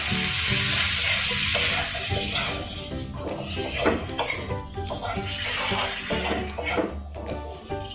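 Green chilies and tomatoes sautéing in a hot pan give a loud, steady sizzle with bursts of hiss and stirring scrapes, close by and without pause.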